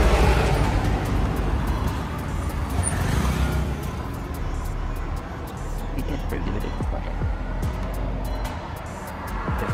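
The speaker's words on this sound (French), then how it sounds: "On est dans le petit CLS Brabus." Steady engine and road noise inside a Mercedes CLS Brabus on the move: a continuous low rumble that stays loud and even, with a slight swell near the start, and no one talking over it.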